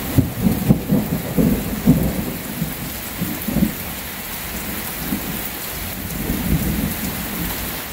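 A thunderstorm heard from a front porch on a Western Kentucky farm in the woods: steady, close rain with repeated low rumbles of thunder rolling through and no voices.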